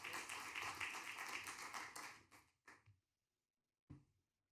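Audience applause for a presenter taking the stage at a panel event on climate and water financing, a dense burst of clapping that fades out, followed by a few scattered late claps.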